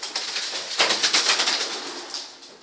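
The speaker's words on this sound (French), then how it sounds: "Il est pas content, cet oiseau-là" A bird inside an abandoned garage gives rapid, agitated calls with fluttering wing flaps, close and fairly loud in an echoing space.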